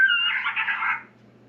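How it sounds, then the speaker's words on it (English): An electronic predator caller plays a coyote and raccoon fight call, a single short, harsh, wavering screech like a squalling animal, loud and close, cutting off abruptly and leaving faint hum. "coyote and raccoon fight,"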